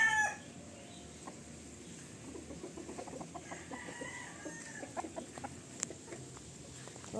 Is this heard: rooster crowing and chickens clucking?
yes